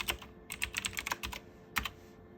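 Keystrokes clatter on a computer keyboard as a command is typed during Cisco router password recovery, a quick irregular burst of taps, a pause, then one firm final press like Enter, close and clear with no talk.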